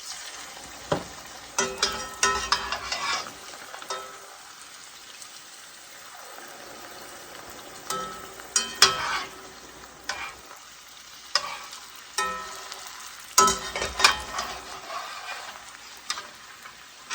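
Tortillas frying in oil until puffed and golden, with a constant crackling sizzle and intermittent louder bursts of bubbling and stirring, close and without talk.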